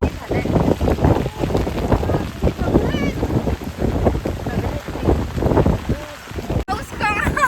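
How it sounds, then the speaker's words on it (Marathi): Heavy rain pours steadily while walking in Omkareshwar, a dense, loud roar with gusty wind buffeting the microphone, and voices talking beneath the downpour throughout. "पाऊस थांबणार नाही, उलट जोरात येईल"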